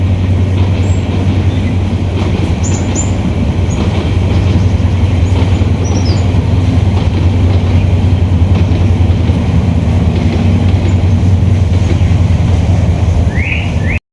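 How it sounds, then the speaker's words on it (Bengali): A train rumbles steadily along the tracks at a slow pace, a loud continuous low drone with faint squeals and clatter, no talking. "আজকে ট্রেন অনেক স্লো গতিতে চলতেছে"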